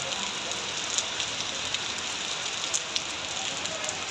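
Heavy rain falls on a street near Jurain railway gate in Dhaka, a steady, dense hiss with scattered louder drop impacts across the whole stretch, and no one speaks.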